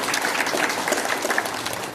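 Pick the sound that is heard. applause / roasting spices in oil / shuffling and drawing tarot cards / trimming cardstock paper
applause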